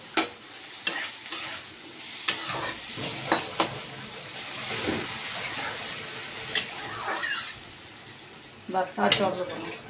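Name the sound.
water added to rice cooking in a pan, stirring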